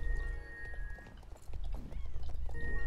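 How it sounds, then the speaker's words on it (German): A horse walks in the Star Stable Online video game, its hooves giving a moderately loud, uneven run of clip-clop steps with a brief pause midway, no voices over it. "ich kann gerade erstmal nur im Schritt reiten"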